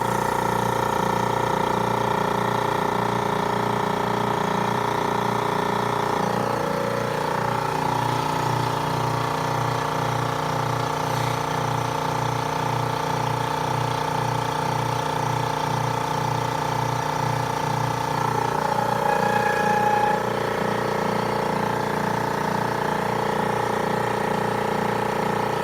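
An engine-driven air compressor runs steadily under load, with a continuous mid-pitched engine drone and regular pulsing that surges slightly in places, loud and close with no talk.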